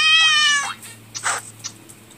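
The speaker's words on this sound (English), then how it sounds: "There's a cat." A synthetic cat meow plays as a sound effect in an online scratch card game: one clear, high, drawn-out mew followed by a few softer short clicks and chirps.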